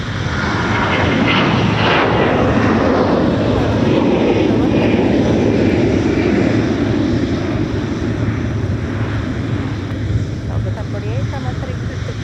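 A jet airliner roars down runway 30 left on its takeoff roll at Minneapolis–St. Paul airport, a loud sustained engine rumble and hiss that slowly fades toward the end, with radio voices faintly underneath.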